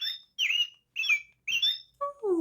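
A little bird chirps and squawks in four short, bright bursts with pauses between them, close and fairly quiet, followed by a lower falling squeak at the end.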